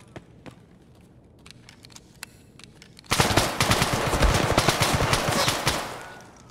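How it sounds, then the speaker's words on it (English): Sustained automatic gunfire in a video game shootout, a few scattered shots at first, then a dense, loud burst of rapid rounds for about three seconds before tailing off. "Why did he start shooting Tanner?"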